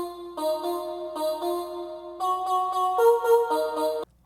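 Glaze vocal synth from Native Instruments run through Ujam UFX-Reverb, sustained sung-style chords in a rhythmic pattern, smeared by a wide reverb wash that fills the gaps and trails off at the end.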